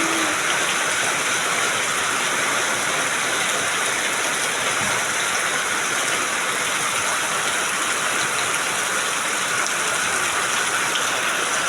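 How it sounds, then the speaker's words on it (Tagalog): Heavy rain pours down steadily in Bagong Silangan, Quezon City, a dense, unbroken hiss of drops drumming on surfaces for the whole stretch, loud and close with no voices heard. "Lakas ang ulan oh."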